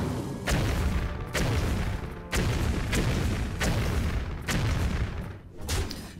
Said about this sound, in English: Did someone say bomb?